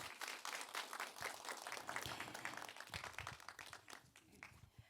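An audience claps for a Korean War veteran at a film talk concert, producing a lively burst of applause that holds steady and then thins out toward the end.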